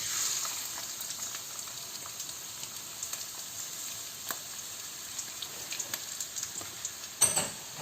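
Finely chopped ginger frying in hot oil in a pan gives a steady, soft sizzle with scattered crackles, fairly quiet and with no voices over it.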